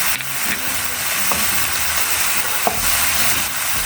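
Pancit canton is stir-fried with pepper and a pork cube in a hot pan, a loud, close, continuous sizzle and hiss with occasional scraping stir strokes and clinks, no talking over it.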